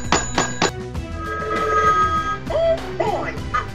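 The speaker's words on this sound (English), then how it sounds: "you can even test the ringtone like this" A rotary dial telephone rings its bell in quick metallic bursts, followed by brighter chiming tones, loud and close.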